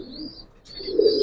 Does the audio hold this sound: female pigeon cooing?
yes